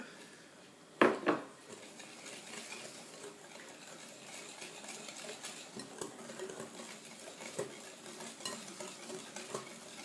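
Melted butter being mixed into sugar in a bowl for Nutella-filled cookies, heard as two sharp clinks of a utensil against the bowl, then soft, quiet scraping and stirring with light taps.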